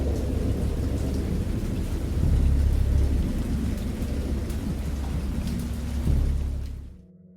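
Heavy rain pours steadily in a thunderstorm within the Dagon horror game, with deep rolling thunder swelling around two and six seconds before the storm cuts off abruptly near the end.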